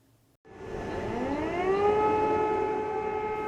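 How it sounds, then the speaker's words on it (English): An air raid siren in Kyiv, Ukraine starts abruptly and rises in pitch to a steady, loud wail that holds for several seconds, with no voices. "An air raid siren to start the day in the Ukrainian capital"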